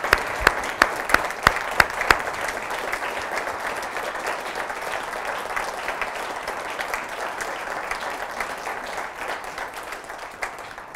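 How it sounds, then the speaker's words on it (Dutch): Applause from a seated audience at a Dutch municipal royal honours ceremony, beginning with a few distinct claps and swelling into steady, sustained clapping for about ten seconds. "Applaus."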